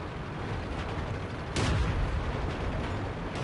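A World of Tanks shell strikes an A43 tank's tracks, a sudden heavy metallic boom and clank partway through, ringing over steady engine rumble and battle noise.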